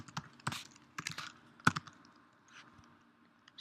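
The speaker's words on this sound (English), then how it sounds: "So what I've had to do is type it in." Quick bursts of keys clicking on a computer keyboard while someone types a path into a Mac running OS X Lion, close and fairly soft, with short irregular pauses between keystrokes.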